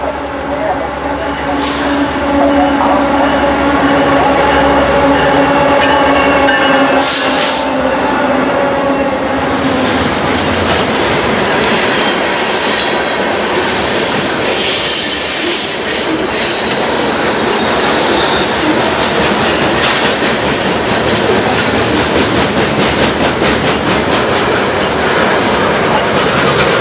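A SunRail commuter train passes at night along its corridor, a loud sustained rumble with rhythmic wheel clatter and horn-like tones early on, staying close and heavy throughout.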